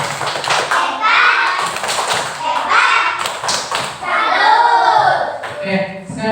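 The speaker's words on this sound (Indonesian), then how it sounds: "Yuk, tepuk salut." Primary school class of young children doing the tepuk salut clapping chant, rhythmic claps and taps interleaved with children's chanting voices, lively and close.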